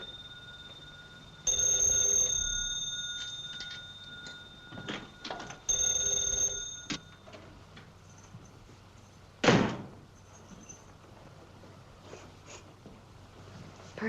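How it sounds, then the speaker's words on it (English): An old-fashioned telephone bell rings in two long bursts a few seconds apart, fairly close and clear, in a 1938 crime comedy setting; a sharp thud like a door slam follows later. "Keep on ringing. He might answer it."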